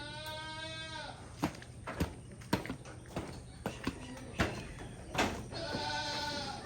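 Boer goats inside a farm building bleat in long wavering cries at the start and end, with thumps and knocks from hooves or handling in between, and faint talk in the background.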